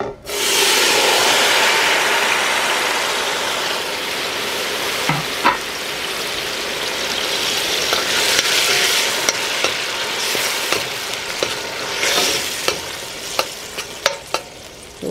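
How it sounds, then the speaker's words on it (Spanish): Tomato, onion, cilantro and garlic frying in hot oil, a loud continuous sizzle that begins abruptly and slowly softens, with occasional spoon clicks and stirring scrapes near the end. "Aquí voy a poner esto, el tomate, la cebolla, el cilantro y el ajo, para que se caliente el aceite."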